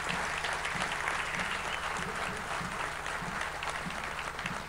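An audience in a tent at an industrial plant opening applauds in a steady, moderately distant patter of many clapping hands that holds evenly for several seconds.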